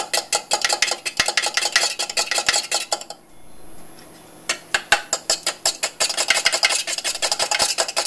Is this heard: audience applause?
no